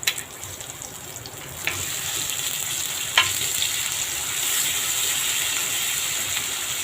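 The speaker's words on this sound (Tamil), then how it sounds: "லைட்டாக வெந்திருக்கு. நம்ம வாழைக்காய் திருப்பி போட்டுடலாம்." Raw banana slices fry in a pan with a steady bright sizzle, broken by a few clinks and scrapes as the pieces are turned over, with no voices.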